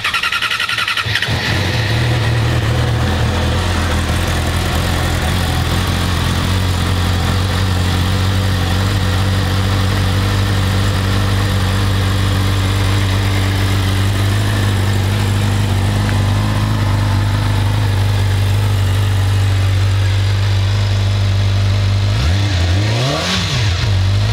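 A 2020 Yamaha YZF-R6 sport bike fires up after a second, settles into a loud, steady idle close by for about twenty seconds, then gives a couple of quick revs near the end, with no talking.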